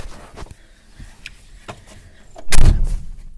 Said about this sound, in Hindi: मैं एक बार गाड़ी के अंदर बैठ जाता हूँ।